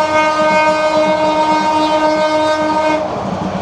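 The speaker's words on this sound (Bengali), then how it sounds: "দারুণ একটা ট্রেন, দারুণ।" Passenger train on the Dhaka to Cox's Bazar route sounding a long, loud steady horn over the rumble of running cars, the horn cutting off near the end while the rolling noise continues.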